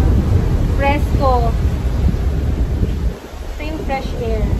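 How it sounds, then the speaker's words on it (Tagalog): Steady roaring wind buffets the microphone, with voices talking over it briefly at the start and end. "Lakas ng hangin."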